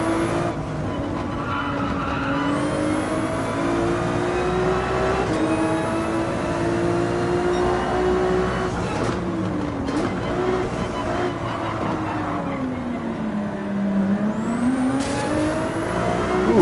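A Ferrari 296 race car in Gran Turismo 7 on the Highway 1 track, its engine note rising and falling through gear shifts and revs, steady and close, with brief tyre skids.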